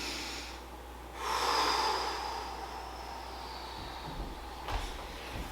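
A single slow, deep inhale during a movement lesson on rolls, a soft rushing breath that swells for about a second, followed by quiet and a faint snort-like exhale near the end.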